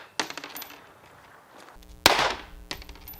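A .22 caliber gunshot fired at a 60-pound magnet, heard as one loud, sharp bang in the middle of a short stretch of clicks and handling noise, with more clatter after it.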